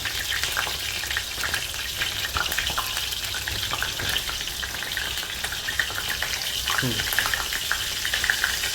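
Asafoetida tipped into hot oil for Rajasthani kadhi, a steady close sizzle and crackle of frying that runs evenly throughout with small stirring clicks and no talking.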